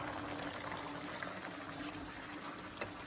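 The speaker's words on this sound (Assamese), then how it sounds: "তেনে ইমান ধুনীয়াকৈ উতলিছে" A quiet, steady bubbling and hissing of jackfruit curry simmering in a pot, continuous and close, with no voices.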